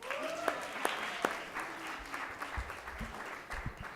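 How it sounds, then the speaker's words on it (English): An audience at a Black History Month honorees event claps for the mayor. The applause is moderate and somewhat distant, with a few sharp individual claps near the start and low voices toward the end. "Please give a round of applause for our mayor."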